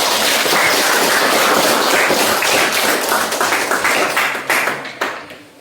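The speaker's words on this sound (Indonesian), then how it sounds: "Kita berikan aplaus untuk kelompok" A classroom of students applauding a student group, dense steady clapping from many hands close by that holds for several seconds, then thins and fades out.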